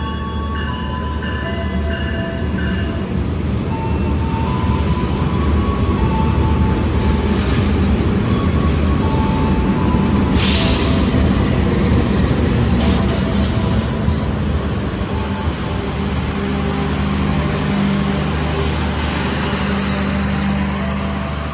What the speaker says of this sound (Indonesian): Nih persiapan kereta api Pandalungan